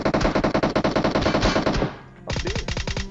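A VSS rifle in a video game fires rapid bursts of loud, closely spaced shots, pausing briefly before a second, shorter burst.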